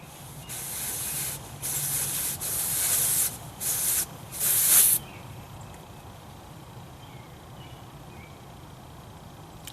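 Air hissing out of a tire through a Grit Performance deflator with gauge, several short loud bursts of spraying hiss in close succession before the release stops and only faint background remains.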